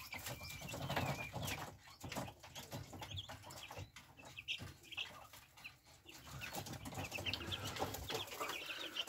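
Hen with her young chicks clucking close by in a poultry yard, soft repeated clucks mixed with chick peeps and light wing flutters, steady and busy throughout with no talk.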